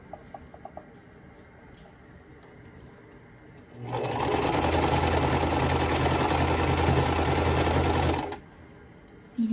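A sewing machine runs fast on a quilt block, a loud steady whirring burst lasting about four seconds between quieter stretches of room noise.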